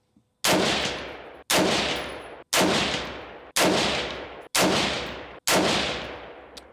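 AR rifle with a milspec trigger firing a 10-round group; six loud, sharp shots spaced about a second apart in a steady rhythm, each with a decaying echo tail.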